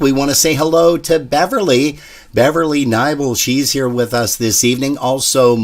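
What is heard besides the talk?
No everyday noise stands out behind the speech.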